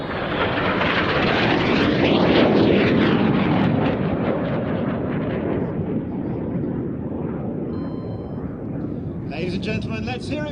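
Aerobatic jet roaring past low at an airshow, a loud broad rushing blast that swells and fades as it crosses, followed by an announcer talking over a public address near the end.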